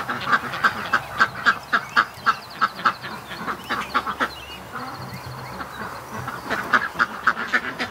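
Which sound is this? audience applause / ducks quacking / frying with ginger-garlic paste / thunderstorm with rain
ducks quacking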